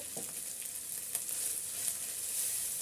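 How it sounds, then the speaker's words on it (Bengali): Chili, cumin and coriander powder frying in a pan, a faint steady sizzle with a few soft stirring scrapes, close up and without speech. "আমি একটু ভেজে নিছি হালকা সামান্য পরিমাণ ভেজে নিলেই হবে"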